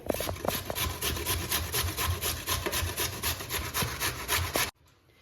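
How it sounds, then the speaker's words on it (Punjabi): Carrots and beetroot rasped on a coarse grater, a steady close rhythmic scraping of quick repeated strokes that stops abruptly into near silence. "ਆਪਾਂ ਹੁਣ ਤਿੰਨਾਂ ਨੂੰ ਇਸੇ ਤਰੀਕੇ ਦੇ ਨਾਲ ਕੱਦੂਕਸ਼ ਕਰ ਲਾਂਗੇ"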